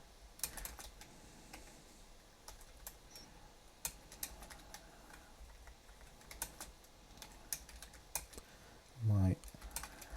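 Typing an article on a computer keyboard, with quiet, irregular key clicks spread across the whole stretch and a brief louder thump near the end.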